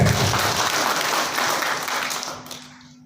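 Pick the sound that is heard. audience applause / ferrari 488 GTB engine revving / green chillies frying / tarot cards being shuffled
audience applause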